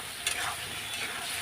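Fish curry masala being stir-fried in a pan makes a brief, steady sizzle close up, with one light knock of the spatula near the start.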